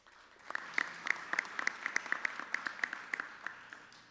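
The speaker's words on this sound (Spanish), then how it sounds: "Con un fuerte aplauso, recibimos al ministro." Audience clapping at a government press conference in the National Palace, welcoming a minister; a modest, fairly faint round of applause with distinct individual claps standing out in a loose rhythm.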